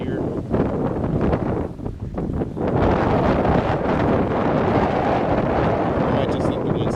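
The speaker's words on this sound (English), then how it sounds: "I might just let the wind subside a little bit" Heavy wind buffets an outdoor microphone in a steady roaring rumble that dips briefly and then holds loud and constant to the end.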